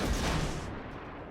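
Ship guns and a torpedo launch in the naval combat game World of Warships: a loud booming blast up front, then a sustained rumbling roar that slowly fades, with no voices.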